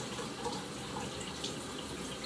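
Water running steadily while dreadlocks are washed, a faint, continuous hiss of water flowing with no talking.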